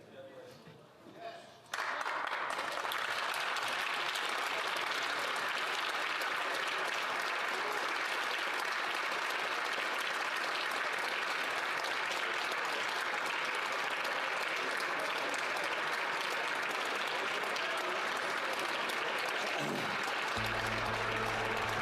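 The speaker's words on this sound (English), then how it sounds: "Did you see that round of applause from the Conservatives?" The Conservatives in parliament break into a loud, sustained round of applause, dense clapping that starts abruptly after a short quiet stretch and continues without letup to the end.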